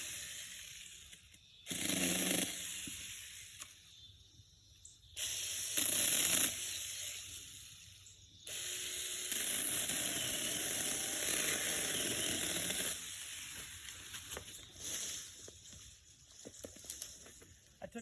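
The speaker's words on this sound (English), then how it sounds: "It took about 2 seconds to go through that, probably about a 2-inch tree" A SAKER mini chainsaw buzzes loudly in bursts as it cuts through a roughly 2-inch tree outdoors, with three or four high revving runs separated by quieter idle gaps, close to the listener.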